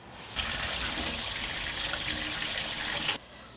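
Cold tap water runs for about three seconds in a steady, close rush, rinsing boiled chicken feet, starting and stopping abruptly.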